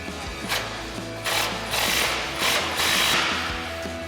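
A ratchet wrench clicks in several quick bursts while tightening the rear bolt of a lower control arm with ball joint on a RAM 1500 truck, close and fairly loud, with metallic gear chatter between pauses.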